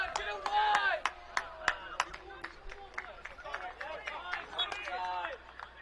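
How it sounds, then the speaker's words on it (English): A home crowd of Rose-Hulman supporters cheers and shouts with excitement during a Division III college soccer match against Hanover, a loud rolling roar of voices with scattered claps that rises and falls over several seconds. "you hear the crowd for Rose-Hulman excited about that one"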